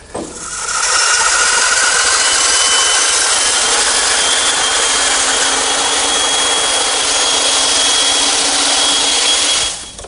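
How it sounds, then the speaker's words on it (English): A bandsaw cuts through wood for a butcher block project, a loud, continuous broadband rasp and whine that holds steady for about ten seconds close by, with no talking. "To remove the rest of the material, I'm turning to my bandsaw."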